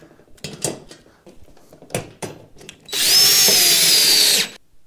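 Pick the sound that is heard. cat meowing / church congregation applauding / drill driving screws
drill driving screws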